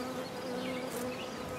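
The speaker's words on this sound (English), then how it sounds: "There's a lot of bees inside of there." A steady, dense buzzing of many bees inside a structure during a bee trap-out, continuous and fairly close, with a low droning hum throughout and no voices.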